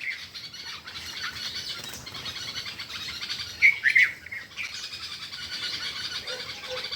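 At dusk, many small birds chirp and twitter together in a dense tree as they settle to roost, a busy steady chorus with a few louder calls standing out briefly.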